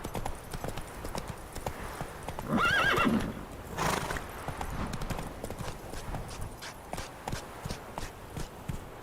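A horse ridden in the video game The Witcher 3: Wild Hunt, steady clip-clop hoofbeats throughout with a loud whinny near the middle, close and rhythmic, no talk over it.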